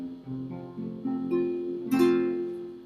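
Single guitar notes and chords plucked one after another, ringing clearly and sustaining, with a brighter strum near the end; no voices.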